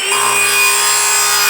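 A saw cuts through wood for a homemade slingshot, a steady loud rasping stroke close by with no talking.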